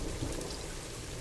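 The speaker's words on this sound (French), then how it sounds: "Il pleut" Rain in Planet Zoo: a short, faint wash of steady rainfall, even and continuous with no voices.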